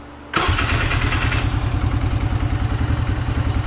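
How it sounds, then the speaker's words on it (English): A Polaris Hawkeye ATV engine cranks and catches, then settles into a loud, close, steady pulsing idle with a clattering rhythm. "Start them up again."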